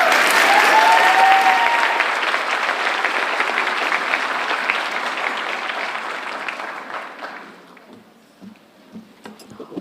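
Loud, dense audience applause after a speech at a communications studies speech competition, sustained for about seven seconds before tapering off into scattered claps.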